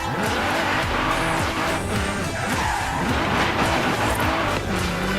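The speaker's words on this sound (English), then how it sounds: "There we are, 25 drifts in the Nissan GTR" Nissan GT-R drifting in Forza Horizon 3, its engine roaring continuously while the tires squeal and skid loudly throughout, with no voices over it.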